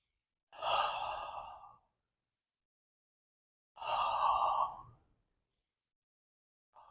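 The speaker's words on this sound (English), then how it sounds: "And you are doing the belly breathing." Slow belly breathing during a tai chi and qigong wrist and finger exercise: two long, soft exhalations about three seconds apart, with another breath beginning at the end, close and alone in a quiet room.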